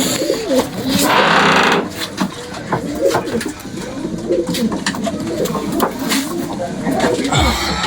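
Male and female pigeons coo close by, low throaty calls recurring over background noise and brief clatter, with no clear speech.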